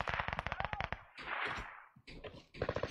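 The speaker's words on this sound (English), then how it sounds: "Looks like they're getting shot at from behind now." Rapid bursts of automatic gunfire from a Warzone video game match, a fast volley of sharp shots followed by more scattered fire and another closing burst, loud and close.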